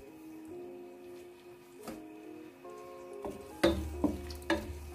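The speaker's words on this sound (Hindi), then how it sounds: "आंच हम थोड़ी तेज कर लेंगे और प्याज को हम थोड़ा सा ब्राउन होने के लिए छोड़ देते हैं" Onions browning in a pan over raised heat for an aloo baingan dish, giving a low steady sizzle with a few sharper clinks and stirring knocks near the end.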